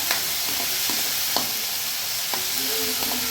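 Tomatoes sautéing in a hot pan for a fried tilapia dish give a steady, close sizzle broken by several sharp scraping stirs of a utensil.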